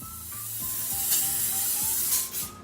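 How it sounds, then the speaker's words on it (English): Aerosol avocado oil sprayed in a long steady hiss onto a 9x13 baking dish, a close continuous burst lasting a couple of seconds with faint background hum, no talk. "I'm gonna spray it down with a little avocado oil."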